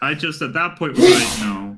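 A sneeze bursts out right after a short stretch of talking, loud and close, with a noisy breathy tail trailing off over the last moment.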